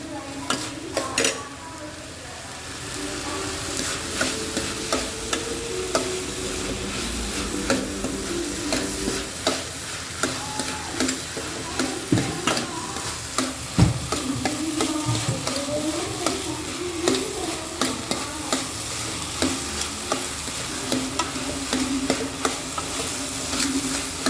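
Grated coconut is sautéed in a pan and stirred repeatedly, giving a soft sizzle beneath frequent scraping and clinking of a utensil against the metal, up close with a steady rhythm; no voices.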